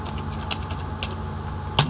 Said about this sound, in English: Okay, let's just type it out.